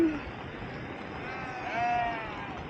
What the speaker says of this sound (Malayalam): എന്തോരം ആടുകളാണ്.